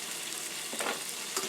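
Garlic cloves frying in a pan make a close, continuous sizzle with a couple of quick stirring scrapes over a short stretch.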